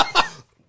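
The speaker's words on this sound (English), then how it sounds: "He's coughing." A man gives a single short, sharp cough after sipping homebrew, close by and over in under half a second.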